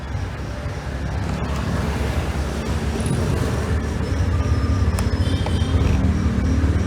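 A Yamaha Mio Aerox 155 sports scooter engine warms up in Nasugbu, Batangas, with a steady, close idle rumble that grows slightly louder throughout, and no talking.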